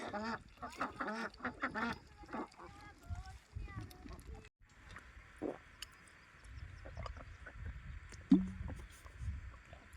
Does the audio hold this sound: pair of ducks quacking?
yes